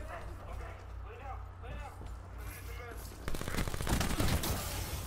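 Rapid VMP submachine gun fire in Call of Duty gameplay, a dense burst of shots growing louder in the last couple of seconds, mixed with game noise and voices talking.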